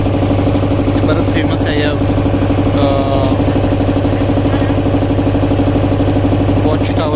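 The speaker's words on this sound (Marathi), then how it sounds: "जलपरी नावाची बोट आहे ही." A boat engine drones with a constant low rumble throughout, while people talk over it nearby.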